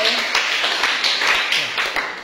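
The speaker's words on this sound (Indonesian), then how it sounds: "Tepuk tangan dulu. Untuk kelompok B." Schoolchildren in an eighth-grade social studies class clap for a debate group, a brisk, uneven patter of many hands close by, with some voices mixed in.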